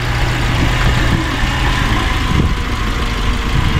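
A car engine idles steadily, a continuous low rumble that stays even throughout, close and fairly loud, with no voices.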